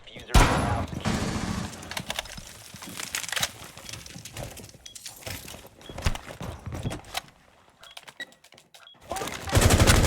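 Dokkaebi's SMG fires in Rainbow Six Siege, sounding as rapid automatic bursts and scattered shots, loud and close, mixed with game noise and players talking.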